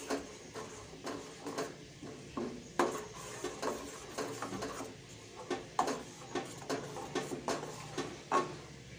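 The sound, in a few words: tomato paste and garam masala paste sautéing in oil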